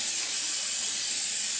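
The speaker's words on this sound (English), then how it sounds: "You want to spray some pan." Cooking spray hissing steadily from an aerosol can into a meatloaf pan, one continuous close spray with no pauses and no voices.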